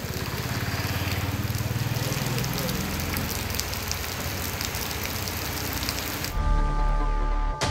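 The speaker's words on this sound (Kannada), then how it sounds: "ಸಿಡಿಲು, ಮಿಂಚು, ಗಾಳಿ ಸಹಿತ ಭಾರಿ ಮಳೆ" Heavy rain from Cyclone Fengal pours steadily in Udupi as a dense, loud hiss of drops on surfaces, continuous for several seconds before a brief change in the background near the end.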